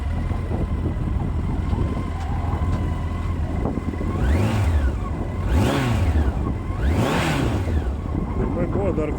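A Yamaha FJR 1300 motorcycle engine runs at a steady idle with a leaking middle shaft seal, rising in three clear revs that sweep up and fall back, close and loud over constant background noise.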